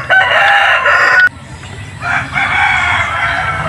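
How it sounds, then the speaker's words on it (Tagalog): A brooding hen clucks loudly and close at a broiler chicken nesting spot on a farm, in a long continuous call that breaks off, then resumes after a short pause. "Yan, naglimlim na manok."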